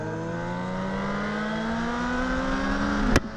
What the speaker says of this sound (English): That boy bike sound good.